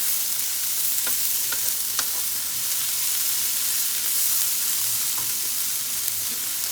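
Sausage and potatoes fry in a pan with a steady close sizzle and hiss, broken by a few sharp pops and faint scraping stirs.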